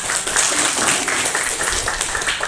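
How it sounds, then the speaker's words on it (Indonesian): A classroom audience at a Hindu religion lesson breaks into applause, a brief, dense burst of clapping that holds steady for a couple of seconds. "Kasih aplaus dulu untuk kita semua."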